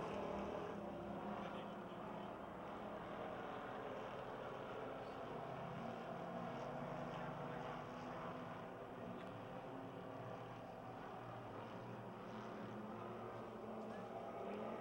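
Race cars roar steadily around Pennsylvania Motor Speedway in Pittsburgh during a 2006 race, a dense, continuous engine drone from the field at moderate distance, with some talk faintly underneath.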